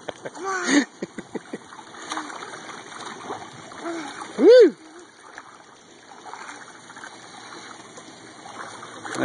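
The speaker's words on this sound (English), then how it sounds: "Now she's jumping and swimming." A young child jumps into a pool and swims, with sharp splashes early and a burst of splatter around midway, while people talk and an adult voice rises over the water noise.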